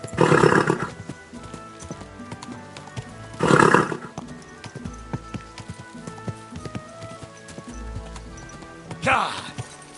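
Horse neighs burst out three times, loud and close, while hooves clop irregularly between them, in the video game Kingdom Come: Deliverance II.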